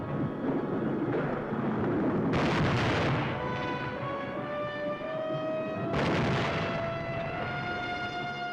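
Gunshots in the 1955 film Bride of the Monster: two loud, sustained blasts of gunfire, spaced a few seconds apart, burst over a steady orchestral score.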